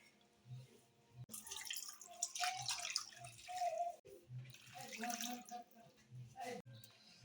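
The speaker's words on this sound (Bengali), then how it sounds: "আমি আগে মাংসটা ধুয়ে নেবো" Water running and splashing while large chicken leg pieces are washed, a fluctuating stream with drips and pauses, and a voice now and then.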